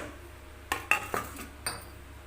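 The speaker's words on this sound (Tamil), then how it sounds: "இப்போது இந்த மாதிரி அகலமான பவுலை எடுத்துக்கலாம் இதில் பூசணிக்காயும் வெங்காயத்தையும் போட்டுக்கலாம்" Chopped pumpkin and onion are dropped into a wide bowl for a snack batter, making a few quiet, separate clinks and knocks of food and utensil against the bowl with no talking.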